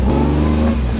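A four-wheeler ATV engine running close and loud, a steady throaty hum with a slight rise in revs over one second and no talking.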